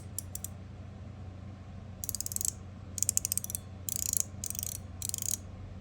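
A fidget toy's mechanism clicking in quick ratcheting bursts, several short rapid runs of crisp clicks close up against a quiet room.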